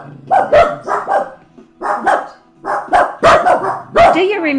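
Dachshunds barking in short repeated bursts, close and loud, with several sharp barks clustered in groups and brief yips between them.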